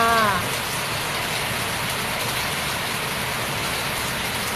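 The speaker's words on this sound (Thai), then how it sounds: "ฟังเสียง ฟังเสียงน้ำฝนกันนะคะ" Steady rain pours down in a dense, even hiss, with a brief faint voice at the very start.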